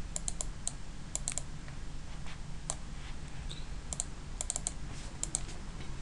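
A git clone command typed on a computer keyboard: quiet, close key clicks in short irregular bursts over a steady low hum, with no voices.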